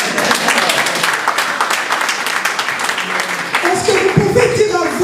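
An audience at an evening event honoring disabled women applauds loudly and steadily, with a voice beginning to speak over the clapping toward the end.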